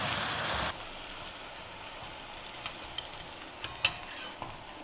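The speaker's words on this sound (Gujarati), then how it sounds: "આપણે આવી રીતે થોડી પ્રેસ કરીને તેને તળીએ છીએ." Wheat puri being pressed and deep-fried in oil, heard as a steady, fairly quiet bubbling sizzle after a louder opening burst, with a few sharp pops and light clicks scattered near the end.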